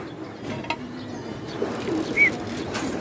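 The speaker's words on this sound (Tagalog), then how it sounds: "Eto na sila mga kalapatids, no?" Pigeons coo softly and low, a faint murmur among a few light chirps and small knocks against a steady background hum, with no one talking.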